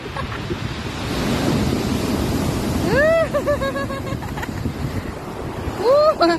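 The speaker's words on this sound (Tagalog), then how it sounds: "Ayan, yan na yung alon, oh. Ang lakas talaga ng alon, grabe, oh." Strong sea waves surge and break on a beach at Santa, Ilocos Sur, a continuous roaring wash with wind buffeting the microphone, while voices shout and whoop over it.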